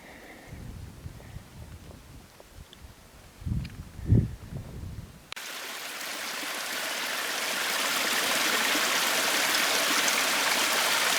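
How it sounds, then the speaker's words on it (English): A mountain creek in the High Sierra, the North Fork of Tuttle Creek in April, rushes in a steady broadband wash that swells louder and stays constant, following a few quieter footsteps or knocks. "You hear that sound? That's water."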